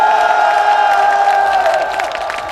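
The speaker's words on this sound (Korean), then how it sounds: "박수 한번 크게 부탁드리겠습니다" Large outdoor crowd at a candlelight rally in the plaza in front of Seoul City Hall applauding and cheering steadily for police officers, a dense wash of clapping with scattered whoops, fading slightly toward the end.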